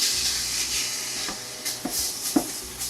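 Ground Angus beef sizzles in a pan over medium heat for cheeseburger soup, a steady soft hiss with a few faint stirring scrapes and small pops, no talking.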